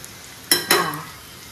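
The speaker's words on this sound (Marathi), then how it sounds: "जरा बारीक गॅसवर केलं ना फ्राय ते आणखीन क्रिस्पी होतं" Dried fish frying on low gas in a pan: a soft steady sizzle with two sharp metallic clinks of a spatula close up, then fading crackle.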